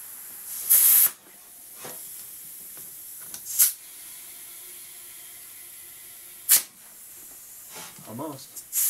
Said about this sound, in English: I'm going to fill it up with some air, and hopefully this will just pop right up onto the rim.